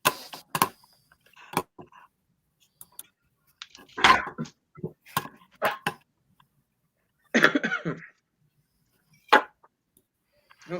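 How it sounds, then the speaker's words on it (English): A person coughs repeatedly in separate short bursts, close by and fairly loud, with quiet pauses between them and no talking. "I got a cough."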